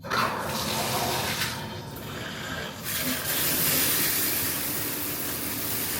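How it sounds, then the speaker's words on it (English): After a plumbing repair, tap water rushes out under strong pressure in a steady, loud hiss that runs on without pause and stays close by, with no voices heard. "See if the water pressure is nice."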